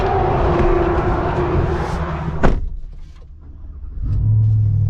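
A 2024 GMC Sierra Denali Ultimate pickup with a 6.2 V8 and sport exhaust rumbles loudly up close. A sharp burst marks a rev, then the sound settles to a lower idle before swelling again.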